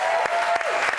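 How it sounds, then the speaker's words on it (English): A studio audience of a TV chat show applauding a guest's arrival: a dense, loud wash of clapping fills the whole moment, with no pause. "That's the longest applause we've ever had."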